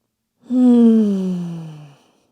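A single long, voiced sighing exhale during a yoga child's pose, close and alone, starting strong and tapering off over about a second and a half.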